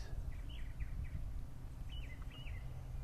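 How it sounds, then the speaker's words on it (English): Several faint bird chirps and short whistled calls ring out over a steady low outdoor rumble, in scattered bursts with gaps. "And you can hear the birds in the trees."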